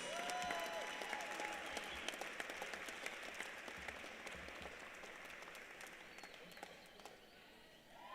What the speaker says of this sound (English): How about a big round of applause for the all MIAA first team selections.